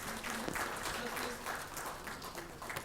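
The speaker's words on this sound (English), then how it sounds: "A round of applause for both of them," Audience applause at an education conference in Delhi rises under a voice speaking over it, a moderate, steady patter of clapping during a memento presentation.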